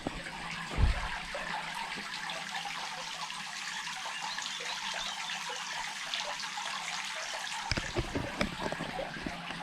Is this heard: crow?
no